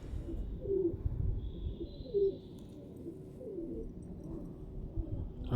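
A gifted pair of pigeons coos softly in repeated low, throaty phrases, close by, over a quiet background rumble with no talking.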